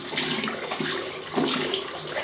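Water splashes and trickles from a tap onto a shaving brush and wet hands at a sink, a bright continuous rush with a few louder splashy bursts.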